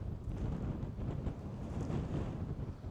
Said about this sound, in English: Today we're at beautiful but windy Titahi Bay